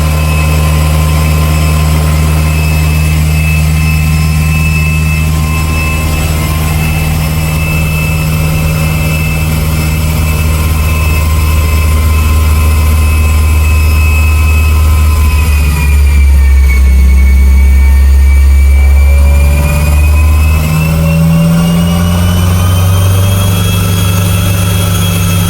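A tuned Subaru engine on a Haltech-managed setup drones loud and steady, holding a high rev with a sustained whine before the pitch dips and recovers, with no voices.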